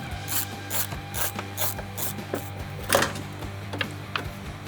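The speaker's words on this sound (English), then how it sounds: "Just got to undo these 4 screws here." A ratchet clicks steadily as Torx screws on a Ford Falcon's air filter box are undone, with fast repeated pawl ratcheting close up over a low engine-bay hum and a sharper metallic clack midway.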